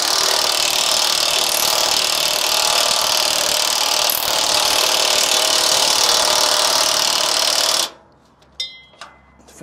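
Cordless battery impact wrench tightening nuts on a new Land Rover 300TDI chassis. It makes a loud, continuous rattling buzz for about eight seconds, then stops sharply, leaving a few faint clinks.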